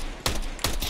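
Two quick gunshot bursts from a CS:GO match, loud and close and spaced less than half a second apart, over a continuous game background with no talk.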